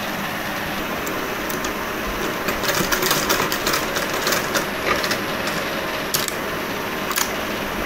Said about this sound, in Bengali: এখন রাবারটা এখানে আমি সেলাই দিয়ে নেব।